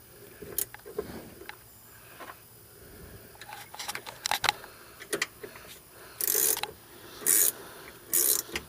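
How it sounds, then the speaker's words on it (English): A ratcheting box-end wrench works a coilover on an 8th-gen Honda Civic Si, giving scattered clicks and then three quick bursts of ratcheting, close and fairly quiet. "At which point you can put a box end on. I have a ratcheting one."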